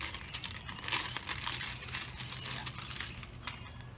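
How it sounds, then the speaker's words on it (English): A paper label is cut and peeled away from a clear plastic container with scissors, giving close, crinkly crackling and tearing rustles in quick bursts, with no voices. "So I'll use my scissors and remove"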